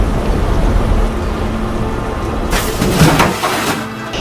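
Heavy rain roars continuously, and midway a loud crash of thunder breaks in and rumbles before fading.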